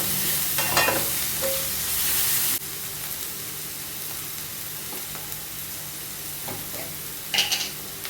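Onions with ginger garlic paste sizzle in a pan for fish curry, a steady close frying hiss broken by a few stirring clinks and scrapes, without speech.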